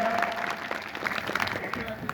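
Audience applause ripples through a gathering as it welcomes the local MLA, a steady patter of clapping with voices mixed in.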